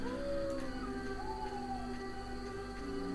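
A dog howls in The Witcher, a long wavering cry over a steady game ambience and music bed, moderately loud and continuous throughout.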